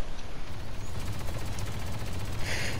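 Rapid minigun fire from Star Wars Battlefront II rattles steadily through nearly three seconds, a dense continuous stream of shots with a brighter burst near the end.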